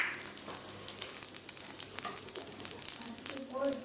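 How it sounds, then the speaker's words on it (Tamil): Cinnamon, cloves, cardamom, bay leaf and poppy seeds crackling in hot oil for a mushroom gravy, a dense close sizzle with rapid pops and stirring scrapes throughout. "அந்த எண்ணெய் சூடேறினதும் கொஞ்சமாக பட்டை, கிராம்பு, ஏலக்காய், இலை, கசகசா எல்லாம் சேர்த்து எண்ணெயில் பொரிச்சிடலாம்."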